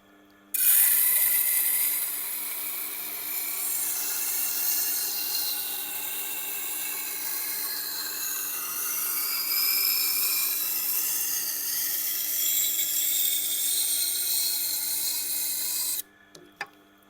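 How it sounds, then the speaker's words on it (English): Hammer Stahl santoku knife ground against a 240 grit sharpening stone, a steady, close, continuous rasping scrape with a faint shimmer of tones above it, running unbroken for about fifteen seconds before stopping abruptly. "Couple of grinds per side to start with."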